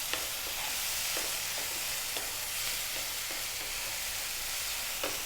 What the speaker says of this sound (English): What we're going to do now is we're going to drop in our frozen peas.